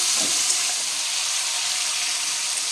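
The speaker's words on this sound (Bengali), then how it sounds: "মশলাটা নেড়ে চেড়ে দেবো, তেল ছাড়ছে" Spice paste with ground ginger fries in oil in a pan for a katla fish curry, giving a steady, close, even sizzle throughout with no talking.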